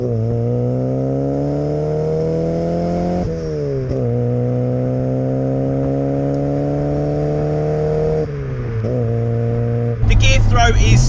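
A Ford Escort RS1600i running on bike carbs revs through several long throttle pulls, its loud engine tone holding and rising between brief drops, with a harsher burst at the end and a voice talking over it.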